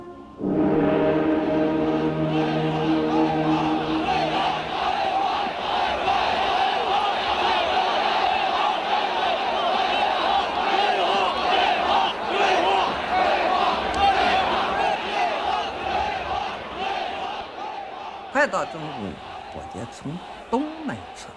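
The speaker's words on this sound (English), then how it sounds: "I saw a huge crowd gathered in Tiananmen Square" A huge crowd gathers in Tiananmen Square, a dense, loud roar of many voices with shouting that continues steadily, thinning near the end as closer voices stand out.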